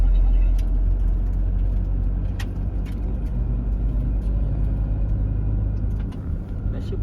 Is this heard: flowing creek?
no